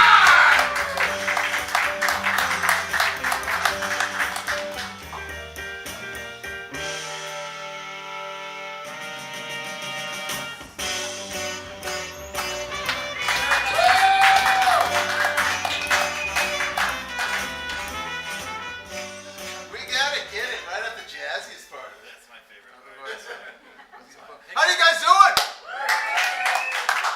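At an improv comedy show, the audience claps along amid music and a speaking voice, with bursts of hand clapping rising and falling over a long stretch.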